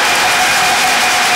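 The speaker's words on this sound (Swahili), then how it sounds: "Makofi mengi jamani" A church congregation claps at an anniversary Mass, sustained dense applause filling the short moment at close range with no voices over it.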